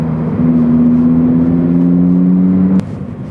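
A loud, close Lamborghini Sterrato engine holds a high steady rev at 5,000 RPM for a couple of seconds, then cuts off abruptly, leaving a lower idle rumble.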